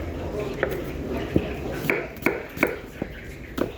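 Onions being chopped for plov with a knife on a board: a handful of sharp, irregular thuds and clicks, close and moderately loud, set against background room noise and faint voices.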